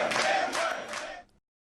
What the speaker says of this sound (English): the crowd chants